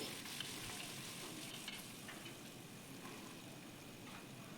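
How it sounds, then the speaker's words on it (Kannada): Chickpeas and peas fry in oil for a chickpea sambar, giving a steady, dense sizzle with a constant crackling hiss that runs unbroken from start to end, with no talking. "ಹೀಗೆ ನೀಟಾಗಿ ಫ್ರೈ ಮಾಡ್ಕೊಳ್ಳಿ ಅದನ್ನ ಆ ಎಣ್ಣೆಲೆ ಸ್ವಲ್ಪ ಫ್ರೈ ಮಾಡ್ಕೊಳ್ಳಿ"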